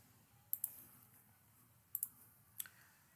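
Computer mouse clicking while editing in Microsoft Word: three bursts of sharp clicks (two quick double clicks and a single), close and crisp over a quiet room hum.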